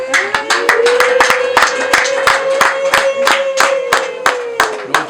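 A small audience claps together at a Rwandan baby-naming ceremony, sharp near claps in a rhythmic pattern for several seconds, with a sustained tone and faint voices behind.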